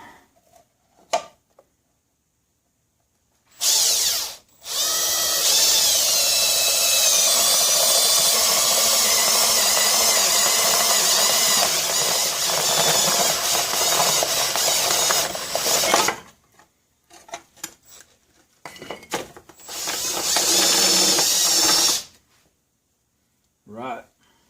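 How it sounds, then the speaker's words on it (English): Electric drill fitted with a step bit boring holes, a long steady grinding whir for about twelve seconds, then a shorter burst, with brief knocks and handling noises between cuts. "I'm going to grab a step bit. It was already in the drill."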